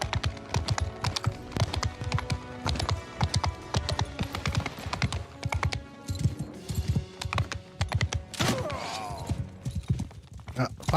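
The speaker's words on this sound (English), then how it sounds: "those are horses everywhere" Horse hooves clip-clop through a medieval fantasy video game, rapid and dense amid a busy mix of combat sounds, background music and other game effects, with a brief sharp burst partway through.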